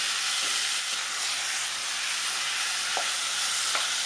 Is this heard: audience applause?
no